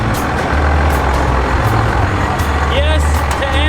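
An old truck engine runs loudly and steadily at close range with a low, continuous rumble, with a brief rising whine near the end.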